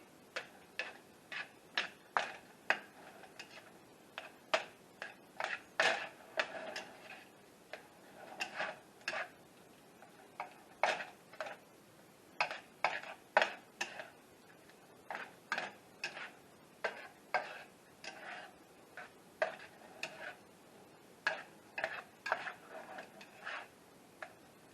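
Biscuits-and-gravy ingredients being mixed in a bowl make a steady run of sharp, close clicks and taps of utensil against the bowl, irregular but constant, with no talking.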